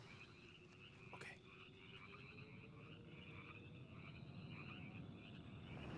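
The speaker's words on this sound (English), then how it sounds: "I would follow the noise of the frog." Night frogs keep up a soft, steady chorus of raspy, pulsing croaks at some distance, with one sharper nearby call early on and a low ambient rumble beneath.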